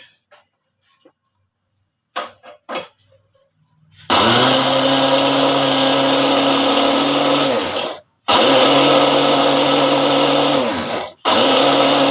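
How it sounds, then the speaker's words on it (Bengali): An electric blender purees tomatoes for pizza sauce. A few clicks come first, then a loud steady whir runs for several seconds, cuts out briefly, and resumes twice more, close to the listener. "এখন আমি টমেটোগুলোকে ব্লান্ডার করবো"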